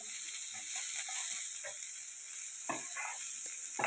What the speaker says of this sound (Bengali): জাস্ট একটু তেলের মধ্যে হাই ফ্লেমে নাড়িয়ে চাড়িয়ে নিতে হবে